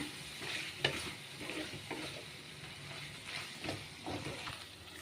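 Chicken and egg fry sizzles and hisses steadily in a pan while being stirred, with scraping clicks of the spoon, fairly quiet and close, no talking.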